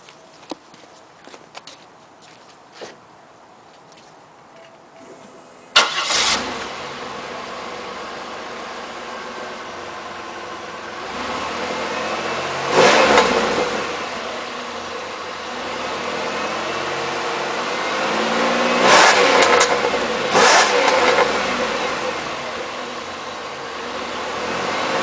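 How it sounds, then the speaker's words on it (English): After some quiet shuffling, a 1998 Oldsmobile LSS engine fires up abruptly and runs with a steady exhaust drone, rising in a few revs before easing back. "Let's give a short exhaust clip now."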